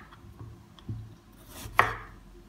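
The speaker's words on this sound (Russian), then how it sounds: "помидоры нарезаем вот такими" A knife slices through firm green tomatoes on a cutting board for Korean-style pickled tomatoes, giving a few soft, close cuts followed by one sharper, louder chop, with no talking.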